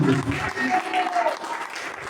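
Church congregation clapping and cheering for Jesus, a short burst of dense applause from a crowd under a voice, fading slightly over two seconds.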